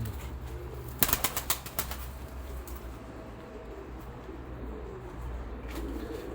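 Pet pigeons flutter and flap their wings in a burst near the start, with soft cooing and faint calls continuing over a low outdoor background hum.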